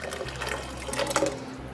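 Tomato being poured into a blender, a soft liquid trickle and pour over about two seconds, faint and close.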